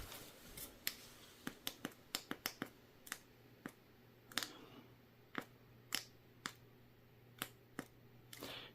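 An Odin Mini weapon light fitted to a less-lethal carbine gives a quiet series of sharp, dry clicks, about fifteen irregular snaps as its cap is pushed forward and locked on, with no voices.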